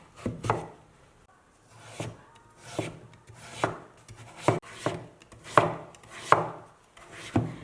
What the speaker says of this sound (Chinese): 去皮之后呢，再把它给切成小块。